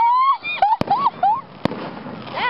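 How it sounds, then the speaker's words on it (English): Close Fourth of July fireworks go off in a few sharp, loud bangs over a scattered crackle, while people nearby talk and exclaim between the blasts. "I've never been close to fireworks."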